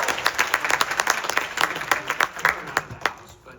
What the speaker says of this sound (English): so by just applauding, how many people saw Charlotte's presentation?